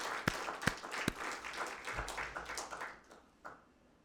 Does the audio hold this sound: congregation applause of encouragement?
yes